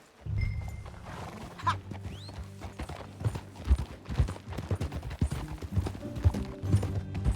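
Horse hooves in Red Dead Redemption II pound in a fast, uneven galloping rhythm, close and fairly loud, with a brief snort or whinny near the start and a rumbling background.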